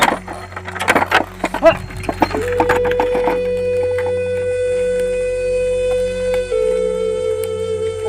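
A wooden bullock cart rolls with irregular creaking, knocking clatters for the first two seconds, then the sound settles into a steady, sustained tonal drone for the rest of the clip.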